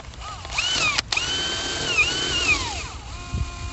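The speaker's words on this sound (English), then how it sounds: "penetrate the surface with a drill bit and then put the drill bit in reverse" A power drill whines steadily while boring through vinyl siding, its pitch rising and dipping as the bit bites, with a short break in the middle before it spins on.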